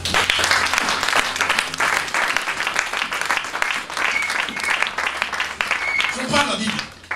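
A church congregation applauding during a service, sustained loud clapping and cheering mixed with voices, tapering off near the end.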